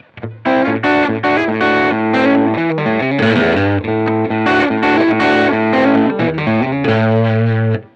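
Electric guitar driven by a Benson Germanium Boost pedal into a Strymon Iridium, sounding as a thick, distorted stream of sustained chords and moving lines, loud and continuous with no voices.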